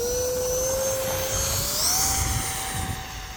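E-flite Habu SS 50mm electric ducted-fan RC jet taking off in strong wind, a loud, continuous high-pitched whine that rises in pitch as the jet speeds up, with wind rumble underneath.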